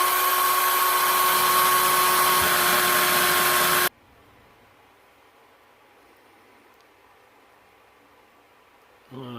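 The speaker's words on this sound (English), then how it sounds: "Let me get these posts drilled" A small drill boring into the posts of a diecast shop truck model runs as a steady, close, high-pitched whine for about four seconds, then stops, leaving quiet room tone with no talk.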